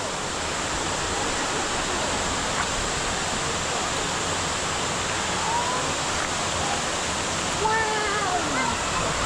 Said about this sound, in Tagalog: Yan itong falls.